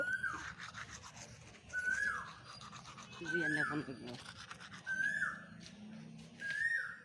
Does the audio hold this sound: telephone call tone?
no